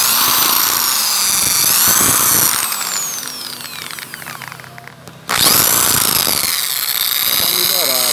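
A power tool with a sanding attachment polishes and sands the port ducts of a 50cc jet ski engine, a loud high whine that dips and labours mid-stretch, then surges back to full speed. Someone talks over it.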